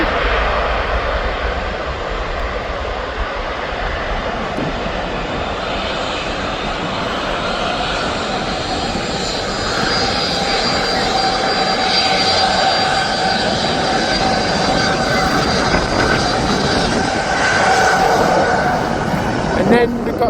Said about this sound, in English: the A330 is just taken off